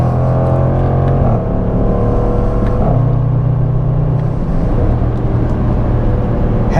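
A 2021 Range Rover SVR engine roars loudly and continuously, its pitch rising and dropping through several revs and gear changes, heard up close from inside the car.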